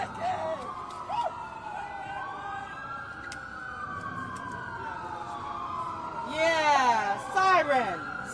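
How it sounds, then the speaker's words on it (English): Emergency vehicle sirens wailing at a street protest in Washington, DC, a long rising and falling tone that is fairly close and steady, joined near the end by a second, faster-warbling siren, with crowd voices underneath. "sirens"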